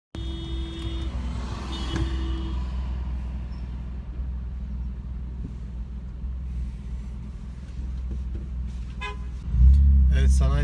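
Busy road traffic in a Turkish industrial district: engines rumble steadily and a car horn toots at the start, with a deeper vehicle noise swelling near the end.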